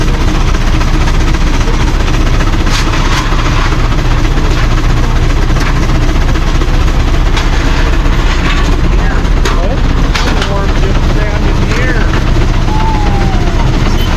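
A coal-fired engine runs under load on a Prony brake, a loud steady mechanical rumble with faint periodic clicks throughout, a voice talking over it.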